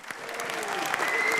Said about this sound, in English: Christian, Checo, Max, another big round of applause to them.